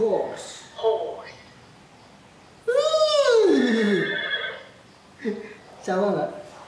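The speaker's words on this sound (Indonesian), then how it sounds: "Gimana suaranya kuda?" A horse whinnies loudly in a long, shaky descending neigh, with shorter horse calls and a voice before and after it.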